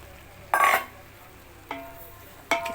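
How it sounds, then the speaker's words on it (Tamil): Chicken sautéing in a pan for Tamil-style biryani, with three separate bursts of sizzling and stirring, the first loudest, close by. "சிக்கன் போட்டு நல்லா வதக்கிடுவோம்."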